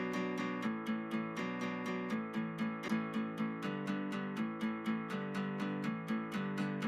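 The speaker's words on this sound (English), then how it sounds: "Next sound is this acoustic guitar." Acoustic guitar strummed in steady, even chords, each stroke ringing bright and full, repeating in a regular rhythm with no voices.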